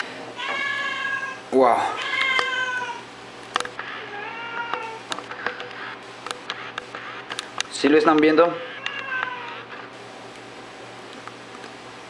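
A cat meows repeatedly in short, rising calls, fairly close, heard during a home PC cleaning session while a person talks over it with occasional clicks and handling noises.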